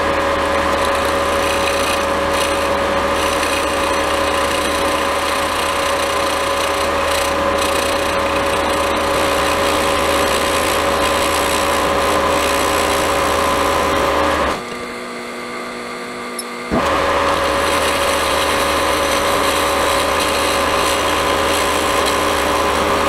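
A boring head on a machine tool takes gentle passes inside a sand-cast aluminum carburetor intake scoop for a homemade boat-tail speedster, giving a steady loud grinding, rasping drone that stops briefly near the end, then resumes, with no talk.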